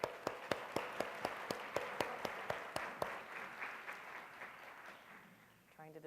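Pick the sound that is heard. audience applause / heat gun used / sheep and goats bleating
audience applause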